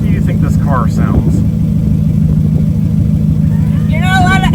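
A manual-swapped Nissan 240SX convertible runs with a steady, loud low engine rumble throughout, while people talk over it.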